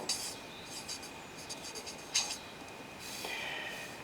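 A pen writes on paper while a chemistry problem is worked out, making faint, short scratching strokes in a quiet room.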